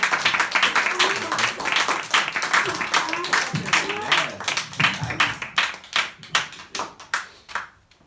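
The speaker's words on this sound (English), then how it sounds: "A big round of applause for all the singers tonight, everyone." An audience at a singing studio's duet concert breaks into sustained, dense applause, many hands clapping loudly and irregularly with voices mixed in, thinning out toward the end.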